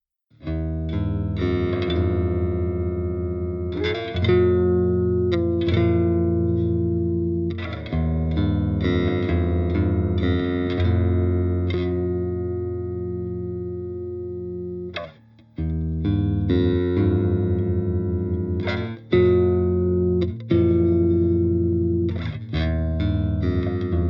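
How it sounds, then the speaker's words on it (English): A 1981 Greco PMB 1000 bass guitar played through a Land Devices Hunter effects unit into an Ampeg SVT amp plugin. Continuous distorted, chorus-thick riffs ring out with brief pauses, full and up front, with no talking. "we're going to run it through bass. And to do that, we will be using my 1981 Greco PMB 1000"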